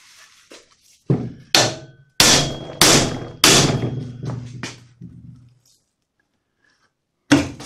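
A hammer strikes a metal plate to bend it during band saw repairs. About ten loud, ringing clangs come in an irregular burst, each with a short metallic decay, then a pause before one final blow.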